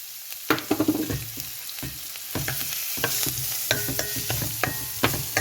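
Onion for a spicy Indian masala potato bhaji frying in a pan: a loud crackling sizzle bursts as it goes in, then continues steadily with scattered stirring scrapes and spatter pops, close and without speech.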